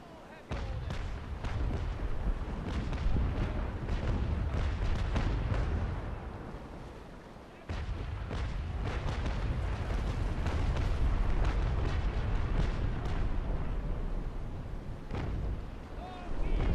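Broadside cannons on a sailing warship in Naval Action fire chain shot at a pirate fleet, a dense near-continuous rumble of booming shots with a short lull in the middle, loud and sustained.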